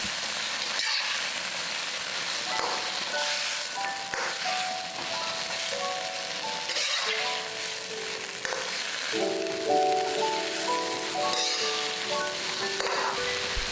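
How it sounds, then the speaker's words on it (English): Chanterelle mushrooms cook in wine in a wok, giving a continuous, fairly loud sizzle and bubbling with a melodic tune running over it and no talking. "Now dump all the chanterelle mushrooms into the wok, and we're gonna let this cook in the wine for a little bit."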